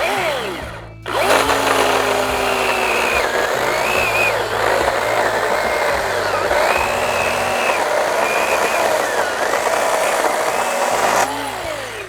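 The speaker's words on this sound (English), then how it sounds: "Let's get this thing going." A Ryobi 18V brushless electric chainsaw with a 12-inch bar whines continuously for about ten seconds, its pitch dipping and rising as it bites into wood, loud and close.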